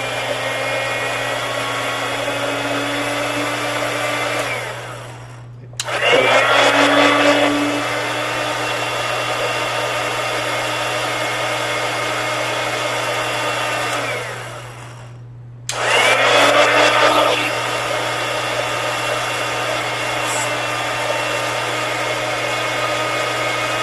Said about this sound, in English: Put it in my blender here. It's going to be a little loud.